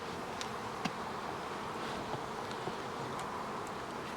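Honeybees drone around a hive in a steady, soft buzz, with individual bees occasionally zipping close past; quiet and continuous throughout.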